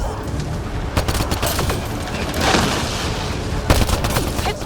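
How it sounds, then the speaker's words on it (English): Dense bursts of sci-fi gunfire from a firefight in Mass Effect Andromeda, rapid overlapping shots and booms rolling continuously with sharper cracks near the end. "Just keep firing, we can do this!"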